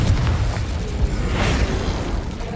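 A Confringo fire spell explodes in the video game Hogwarts Legacy: a mid-loud burst with a whooshing flare, set against low rumbling game ambience.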